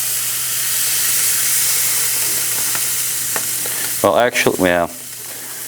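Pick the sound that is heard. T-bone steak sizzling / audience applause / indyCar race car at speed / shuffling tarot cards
T-bone steak sizzling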